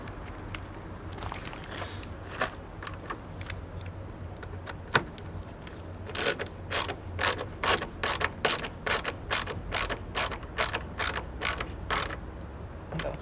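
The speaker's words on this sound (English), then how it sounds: "Let's put the screws back in." Screws being driven back in on a Ford Mondeo Mk4 during headlight bulb replacement, a close, quick series of rhythmic ratcheting clicks, preceded by scattered small knocks and handling noises.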